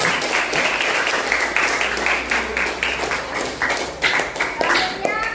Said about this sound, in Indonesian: Tepuk tangan dulu buat semuanya.